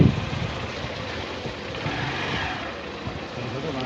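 A motorbike engine drones steadily during a ride, with a continuous broadband rush of wind and road noise close up and no clear voices.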